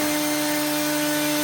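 An RC electric motor spins an 8-inch propeller on a thrust test stand, a steady high whine with a strong constant tone and airy rush throughout, close and alone.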